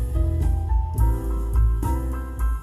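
Jazz playing through the stock audio system of a VW Golf GTI Mk8, boomy and muddy with heavy bass and sustained chords, thin in the midrange, steady and without vocals.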